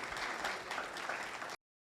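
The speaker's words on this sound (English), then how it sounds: "Please give another big applause for everybody here, panelists and moderator." Brief burst of audience applause for the panelists and moderator at a leadership forum, an even patter of many clapping hands at modest volume that cuts off abruptly after about a second and a half.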